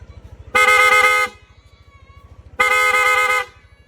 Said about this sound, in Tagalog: Then switch, PIA horn, then rapid.